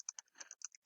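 Computer keyboard keys tapped in a quick, uneven burst of about nine clicks, close and fairly quiet, while typing English words to come out as Chinese characters.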